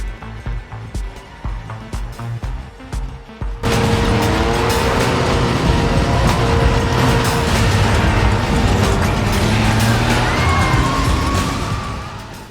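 Racing cars in a Need for Speed video game, mechanical clatter that gives way to a loud, sustained engine roar with whining tones and impacts.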